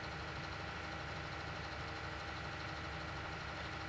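Tractor engine in Farming Simulator 19, running steadily with a dense low rumble and a continuous hammering, knocking pulse at a constant level, with no talk over it.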